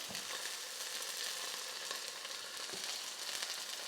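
Chicken breast sears in a hot frying pan, giving a continuous, even hiss of sizzling with small crackles and pops throughout.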